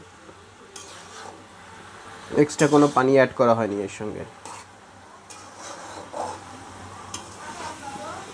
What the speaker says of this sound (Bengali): এটাকে বারবার নাড়তে হবে আর কি যাতে কড়াইয়ের সঙ্গে লেগে না যায়